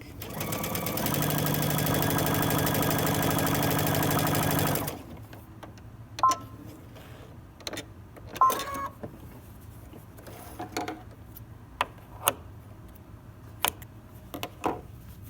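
A sewing machine runs a straight stitch on knit fabric in one steady, rapid, close mechanical whir for about four seconds, then stops, leaving scattered small clicks and handling sounds.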